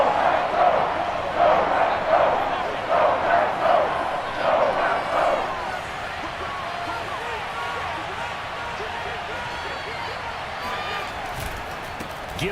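Stadium crowd noise in the Madden NFL 22 football game, a loud rhythmic chant swelling in the first half, then settling into a steady roar beneath a commentator's talk.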